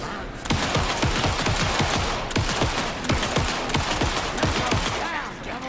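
Rapid bursts of automatic gunfire from a firefight in the horror game Alan Wake 2, dense overlapping shots sustained loud and close for several seconds with no gaps.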